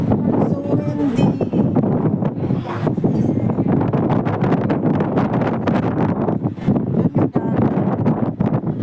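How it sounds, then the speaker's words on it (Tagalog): Strong, steady wind buffets the microphone at the top of an Ocean Park amusement park ride, a dense continuous roar with rustling gusts and faint voices mixed in. "So windy."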